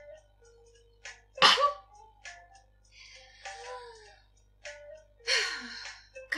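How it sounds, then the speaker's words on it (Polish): A person sneezes twice, each a sharp close burst with a gasping intake before it, with quiet breathy vocal sounds and light ticking in between. "O matko, będę kichać."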